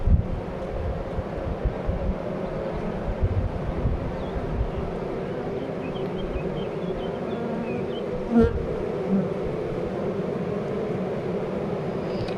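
Honey bees at an apiary hive make a dense, steady buzzing hum close to the microphone, with light wind rumble and a few brief bumps, no talking.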